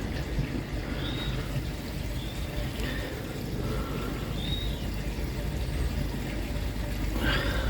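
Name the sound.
water being scooped and poured out of a koi pond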